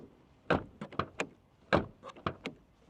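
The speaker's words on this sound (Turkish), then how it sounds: "Gelelim kapı açma testine. Şimdi Clio'ya geldik." Renault Clio car door being worked during a door-opening test: a series of close mechanical clunks, latch clicks and thumps, irregular and fairly faint, with no speech.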